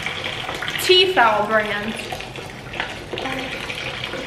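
Water pours and drains through small holes in a pot lid over a kitchen sink, a short splashing run followed by quieter trickles, while someone talks over it.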